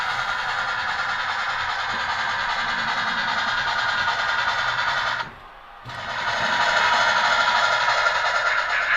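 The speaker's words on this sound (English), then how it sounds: "the big locomotive makes it through also" A large model train locomotive rolls over model railway track with a steady, close mechanical whir and rail clatter that briefly drops out partway through and then resumes.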